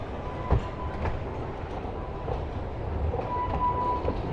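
The Pleasure Beach Express, a miniature train, rolls around a turn toward its station at Blackpool Pleasure Beach, with a steady rumble, rhythmic wheel clacks and a brief thin squeal of the wheels.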